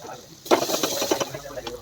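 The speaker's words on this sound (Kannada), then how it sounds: "ಅಷ್ಟರಲ್ಲಿ ಸಾರಿಗೂ ಒಗ್ಗರಣೆ ಹಾಕ್ತಾಯಿದ್ದೀನಿ." Tempering being added for Kannada saaru at home, a sudden burst of oil sizzle and crackle after a quiet start, with stirring clatter continuing close and moderately loud.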